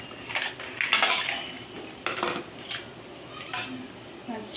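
Plate and serving spoons clinking while a dish of ivy gourd and egg curry is served, a run of sharp close metallic taps and scrapes with short pauses between them.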